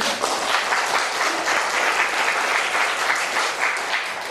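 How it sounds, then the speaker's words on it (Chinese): Audience applause fills a lecture hall at the close of a Q&A session on Indigenous pop music, with steady, dense clapping that stays loud and close throughout, no talk over it. "那就给自己掌声鼓励一下"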